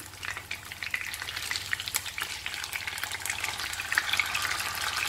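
King fish coated in masala fries in a pan, with a continuous close crackling sizzle and a few louder spits and pops as it cooks.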